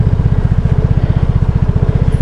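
A Vespa S125 scooter engine strains up a short, steep hill, a loud, close, steady low drone with rapid pulsing firing beats and no voices.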